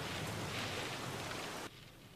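Steady, dense rain hisses evenly at moderate volume with no voices, then drops abruptly to a softer wash near the end.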